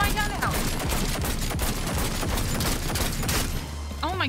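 Sustained rapid gunfire in the video game Cyberpunk 2077 Phantom Liberty, a dense, loud fusillade of overlapping shots that runs the whole time and ends with a brief electronic chirp.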